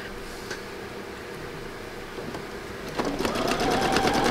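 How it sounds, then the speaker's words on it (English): A sewing machine stitches along a fabric strip with a soft, steady mechanical hum that grows busier and more rattling near the end, heard close up and alone. "I'm about finished sewing this strip"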